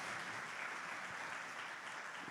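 A church congregation claps in a steady, faint wash of applause, heard from a distance as a continuous even patter with no talking over it.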